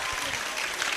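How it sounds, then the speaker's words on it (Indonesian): Audience applause for two guests at a university dialogue event in Banjarmasin, a dense, steady patter of many hands clapping throughout the short burst. "Kasih tepuk tangan dong buat mereka."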